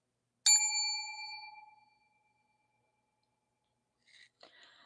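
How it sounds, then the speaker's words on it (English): A small bell rings once with a clear, bright ding that rings out and slowly fades over about two seconds, followed after a pause by faint light rustling. "Oh, I can ring the bell because I remembered that name"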